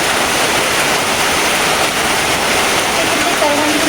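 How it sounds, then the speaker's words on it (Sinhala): Rain falls hard and steadily, a loud continuous wash of hiss close by with no letup, while people talk under the noise. "අයියට වහිනවා නේද දැන්"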